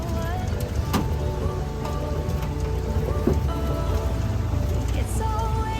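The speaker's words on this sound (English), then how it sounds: "The raincoat is almost dry, but the rain's coming again." Steady rain pours in a canyon on Mount Pinatubo, a dense hiss of drops on surfaces close by, with occasional louder splashes and a low rumble underneath throughout.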